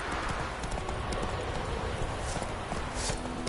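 Roach the horse galloping in The Witcher game, a continuous rapid clip-clop of hooves at close range, steady and loud with no talking.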